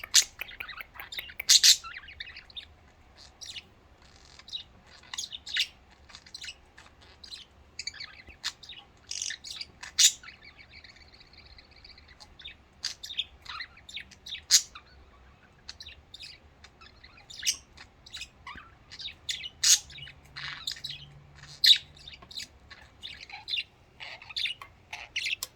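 Pet budgies chirp and tweet in quick scattered bursts, bright and close, with short pauses between flurries and a quiet background.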